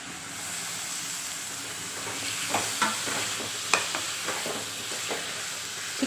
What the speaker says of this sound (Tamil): இப்போ நம்ம சிக்கன் போட்டு வதக்கலாங்க.